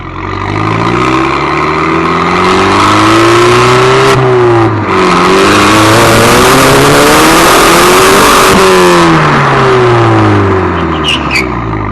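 An Audi TT tuned to nearly 300 hp revs hard through its exhaust, a loud close engine climbing and falling in repeated sweeping revs for the whole stretch, with no voices.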